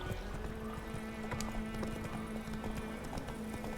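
A horse's hooves clip-clop at a steady walking pace in The Witcher 3, a close rhythmic clatter over a constant low hum of game ambience, with no talk.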